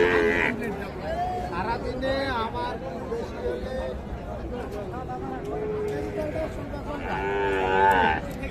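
Sahiwal heifers lowing at the busy Ambari cattle market, several loud moos rising over a constant crowd hubbub and nearby chatter, some close and some farther off.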